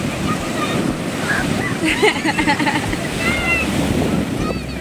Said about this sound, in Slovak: v tomto počasí sú najlepšie vlny